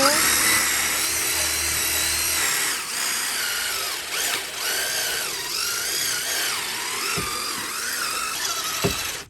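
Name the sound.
power drill running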